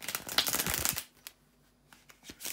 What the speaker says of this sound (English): to shuffle the cards